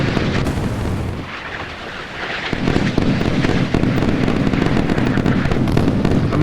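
Missiles firing and exploding in the naval combat game Sea Power during a clash between carrier groups, with heavy rumbling blasts and crackling bursts layered densely and loudly throughout.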